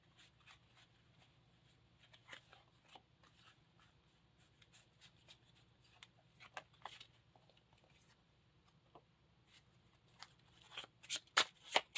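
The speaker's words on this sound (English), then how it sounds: "Shuffle the encounter deck." Playing cards are shuffled close by, soft riffling flutters repeating quietly, building to a louder, quick run of crisp riffles near the end.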